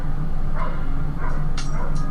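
A dog barks in a few short, sharp yips and woofs, close by, over a steady low background hum with no one talking.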